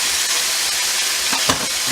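A burger and smoked streaky bacon frying in a pan give off a loud, steady sizzling hiss, with a brief clatter near the end as the food is moved.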